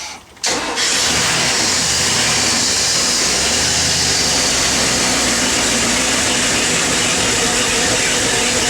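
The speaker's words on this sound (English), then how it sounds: "Try giving a little throttle on this time," An inboard boat motor being winterized starts and then roars steadily under throttle, a loud, continuous close-up engine drone that holds for several seconds without talk.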